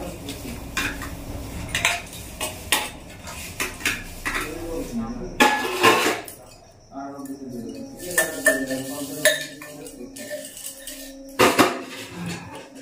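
Plates and steel dishes clatter and clink in repeated close knocks as they are stacked and handled for serving prasad at a home kirtan, with people talking at times.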